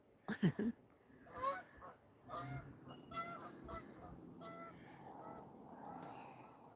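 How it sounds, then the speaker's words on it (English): A flock of geese honks as it takes off near a river at a scenic lookout. A burst of loud close calls at the start gives way to fainter, scattered honks as the birds fly away. "there goes the geese"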